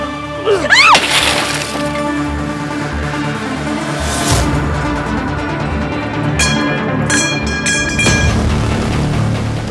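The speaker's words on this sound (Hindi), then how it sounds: "अपनी गाड़ी का शीशा कौन तोड़ता है?" Car window glass being smashed in a Hindi television drama, a loud sequence of cracking and shattering impacts with tinkling shards, several sharp hits spread across the scene over a busy background.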